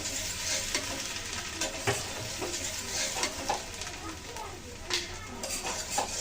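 Greens with coconut and turmeric frying in tempered oil: a continuous close sizzle with repeated scraping and stirring taps across the whole stretch.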